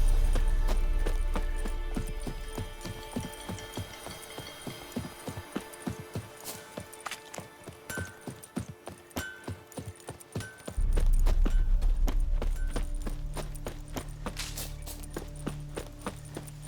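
Roach the horse gallops in The Witcher 3 with a steady, rhythmic clip-clop of hooves, fairly close, continuing throughout over a droning ambient background.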